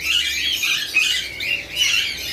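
Small birds squawk and chirp in a steady, dense chorus at a crowded pigeon and bird market in Tollinton Market, Lahore, the shrill calls overlapping continuously with no clear pauses.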